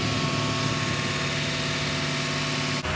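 The 5.7-liter V8 of a 2019 Toyota Sequoia Platinum idles with a smooth, steady low hum and a faint mechanical whir, heard up close with no talking and a slight dip right at the end.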